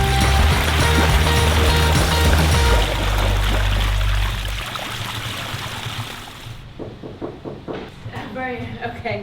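Water pours loudly from a renovated garden pond waterfall into a stream, a steady rushing flow close by that later settles to a softer trickle while people talk excitedly over it.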